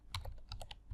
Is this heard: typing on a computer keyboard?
yes